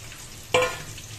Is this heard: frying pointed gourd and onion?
yes